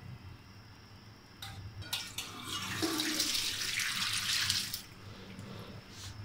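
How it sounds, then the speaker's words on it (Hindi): Boiled spaghetti water pours through a strainer as a steady, rushing splash that rises and holds for a few seconds, then tapers off with a few trickles. "छन्नी से इसको छान लें।"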